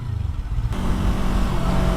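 A bus rushes close past a motorcycle on the road, a sudden loud surge of engine and wind noise over the bike's steady engine hum.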